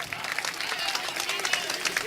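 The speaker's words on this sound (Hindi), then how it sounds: "तालियों से इस्तकबाल कर दें जनाब आबिद नज़र का।" An audience at an Urdu mushaira in Kamptee, Nagpur, claps in a fast, continuous patter of many hands, steady and moderately loud throughout.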